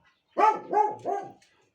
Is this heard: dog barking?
yes